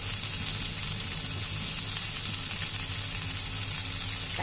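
Rohu fish frying in a pan gives a loud, steady, close sizzle with continuous hiss and crackle throughout.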